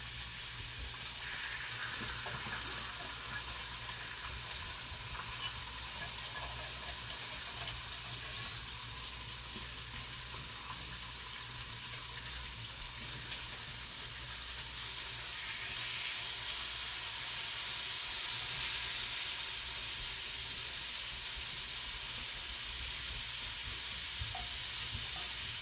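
Butter melting in a pan gives a soft, steady sizzle and hiss that runs continuously and grows slightly louder toward the end, with no voices over it.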